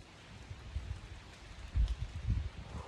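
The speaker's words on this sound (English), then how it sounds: "is starting to rain." Light rain starting to fall outdoors, a soft steady patter with a few louder, closer bursts of drops and rustle, no voices.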